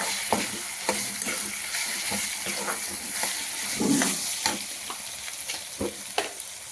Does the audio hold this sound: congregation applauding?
no